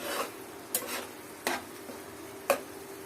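Dried fish frying in a pan as it is stirred, a soft sizzle under three or four distinct scraping strokes of the spoon, near and fairly quiet.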